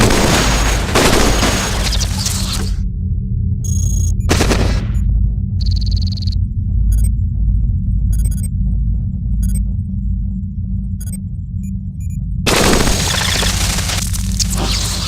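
Weapons fire in the CogMind video game: field laser, particle cannon and plasma cannons go off in loud, dense bursts, with a sudden quiet gap broken by sharp shots before the heavy barrage resumes.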